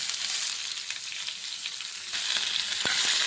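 Chopped onions frying in oil with coriander seeds and cumin, a dense, continuous close-up sizzle that stays even throughout, with a faint tap near the end.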